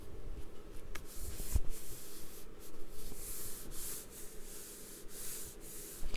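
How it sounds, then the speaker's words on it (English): Paper being folded lengthwise on both sides to form a long letter pocket in a memory keeper craft, giving a steady, close rubbing and sliding rustle that swells slightly near the start and end. "And then we're going to fold it up."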